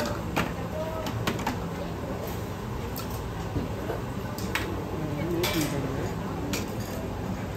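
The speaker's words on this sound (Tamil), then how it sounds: "எல்லாத்துக்கும் கொஞ்சம் கொஞ்சம் எடுத்து கலக்கிறாரு, கலக்கி அப்படியே நூடுல்ஸில் மிக்ஸ் பண்ணி கொடுத்துட்றாரு போல." A street vendor at Chatuchak market in Thailand stirs and mixes noodles in a pan, giving steady metallic scraping and clinking of utensils against cookware amid a busy background hum of market chatter.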